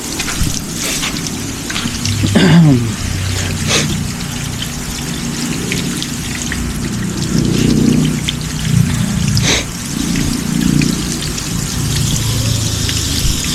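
Water drips and patters from the leaves of a freshly watered potted ylang-ylang plant, a steady close spatter with scattered louder drops and no speech.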